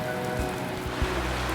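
Steady natural rain falls and patters on a surface nearby, a dense continuous hiss with a few louder drops and no voices.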